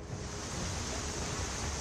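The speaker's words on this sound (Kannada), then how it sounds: "ನೀರು ಅಷ್ಟೊಂದು ತುಂಬಿ ಬರ್ತಾ ಇದೆ." Floodwater rushes through a Delhi street during record heavy rain, a loud, continuous broadband roar with no voices.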